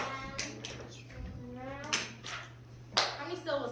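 Several sharp hand claps mark out the syllables of a word in a reading lesson, spaced irregularly across a few seconds and interleaved with a person speaking in a quiet classroom.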